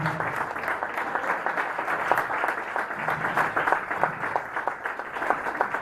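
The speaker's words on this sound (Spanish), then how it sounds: "Damos una ofrenda de palmas a Dios" Worshippers in a Sunday church service clapping for God, a steady crowd of hands with distinct sharp claps standing out near the front, sustained throughout.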